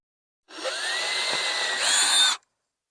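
A power drill whirs steadily for about two seconds, close and loud, boring holes for eye hooks, its pitch rising slightly near the end before it cuts off.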